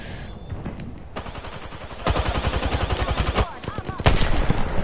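Gunfire in the video game Apex Legends rings out as rapid automatic bursts, first quieter and then louder and closer, with sharp single cracks on top.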